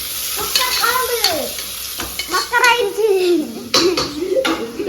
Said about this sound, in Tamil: சரி வெங்காயம் நல்லா வதங்கட்டும்